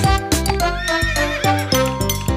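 A horse pulling a delman carriage whinnies in a loud, close, shaky neigh, with a few abrupt bursts breaking up the call.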